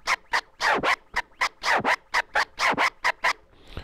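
Rapid turntable scratches in a rhythmic pattern, short whooshing strokes in quick pairs and runs, loud and close with no voices.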